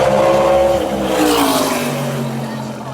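A NASCAR stock car on pit road practice roars close by, its engine pitch sliding downward as it slows and passes, loud at first and fading slightly toward the end.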